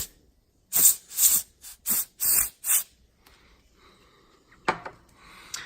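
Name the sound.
spray cleaning laptop ports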